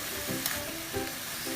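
Squid and banana heart simmer in coconut milk in a pan, bubbling steadily as a utensil scrapes and stirs in a slow rhythm of three or four close strokes.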